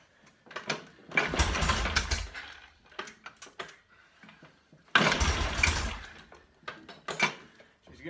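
A Norton Commando 750 motorcycle engine is started with the choke on, loud bursts of cranking and brief firing in two main attempts, separated by quieter mechanical clatter.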